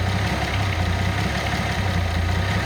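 A car engine idles low and steady with a rumbling, slightly uneven pulse, close and loud throughout with no voices.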